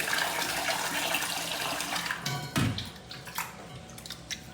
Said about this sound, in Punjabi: ਹੁਣ ਆਪਾਂ ਨੇ ਚੰਗੀ ਤਰ੍ਹਾਂ ਚਾਵਲ ਤੇ ਦਾਲ ਧੋ ਲਈ ਆ